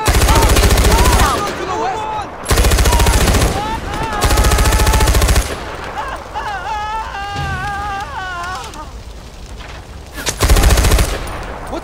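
Loud bursts of automatic gunfire erupt in a Far Cry 4 shootout with hunters, long sustained volleys separated by brief pauses, with shouted voices and game dialogue heard between and under the shots.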